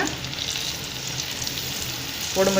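Bitter gourd slices fry in hot oil for chips with a steady, close sizzle throughout. The frying swells briefly near the end as more pieces drop in.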